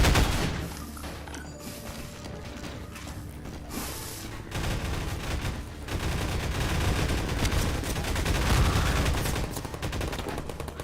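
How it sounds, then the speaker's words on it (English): Pulse rifle fire in the video game Half-Life 2 co-op, loud rapid automatic bursts with mechanical clatter, continuous and close, intensifying in the second half with no talking. "Pulse rifle, wherever it's called."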